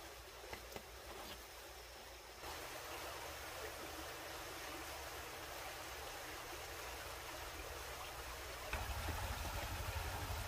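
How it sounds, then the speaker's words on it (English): Running water of a stream near a covered bridge campsite, a quiet steady rushing wash with a low engine-like rumble joining toward the end. "Man, it's nice hearing that water run."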